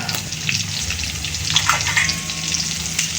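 Tulingan fish frying in reused cooking oil, a dense, continuous crackling sizzle with small pops, close and steady throughout.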